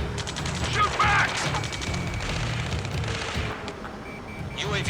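Battle gunfire in the video game Ace Combat 7, with dense, continuous automatic fire and crackling shots under radio-style voices shouting, loud and busy throughout.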